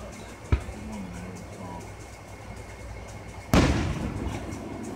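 Fourth of July fireworks in Hocking Hills, with one sharp distant pop early on and then a loud, broad boom that rolls off over a steady background rumble.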